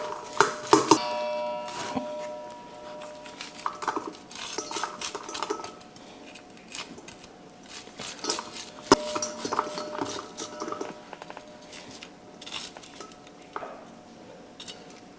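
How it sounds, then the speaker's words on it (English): A knife shaving kernels off an ear of corn, repeated scraping and clinking strokes against a dish or board in an irregular rhythm, close by and with no talking. "just get this corn shaved. Gonna take it off the husk."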